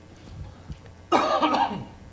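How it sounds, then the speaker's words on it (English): A single loud, harsh cough from someone getting over a cold bursts out after a second of quiet room tone, with a rough throaty tail that fades out. "You guys can edit those coughs out, right"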